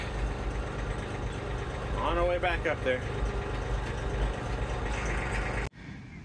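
Farm tractor engine running steadily throughout at close range, a continuous low rumble with a voice speaking briefly over it before the sound cuts off near the end.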